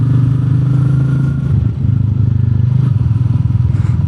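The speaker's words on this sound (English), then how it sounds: "The engine pulls absolutely smooth." Royal Enfield Meteor 350 single-cylinder engine fitted with a FuelX Pro module, heard close and loud while riding, a steady low thumping drone with a brief dip as the throttle eases before pulling smoothly again.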